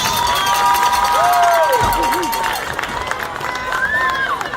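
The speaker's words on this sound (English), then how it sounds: "another round of applause for the Bowdon High School Band of Pride" A crowd at a high school football game cheers and applauds the Bowdon High School Band of Pride, a dense roar of shouts and clapping under scattered whistles and raised voices throughout.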